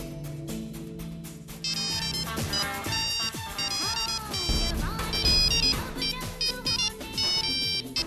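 A phone ringtone plays a bright, repeating electronic melody, loud and continuous throughout.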